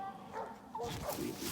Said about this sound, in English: We got the puppies in there.